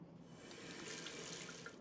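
Water from a kitchen tap running steadily into a bowl of broccoli, a close, continuous splashing hiss with no voices.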